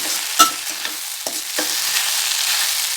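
Okra being stir-fried in a pan for a dry poriyal, a steady sizzle broken by a few sharp scrapes and stirring knocks, close and without talk.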